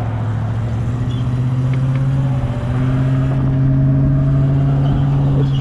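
Loud truck with a steady low engine drone rumbling close by on a road, sustained throughout with a slight swell toward the end.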